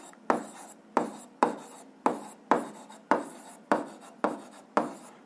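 A pen writes on paper in a regular series of about ten quick scratchy strokes, each starting sharply and fading, close and fairly quiet with no voices.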